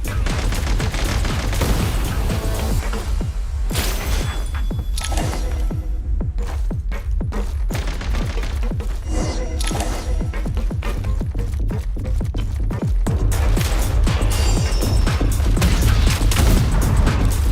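Sustained gunfire in Genshin Impact, dense rapid bursts of shots and booms that keep going nearly nonstop, loud and close, with no talk.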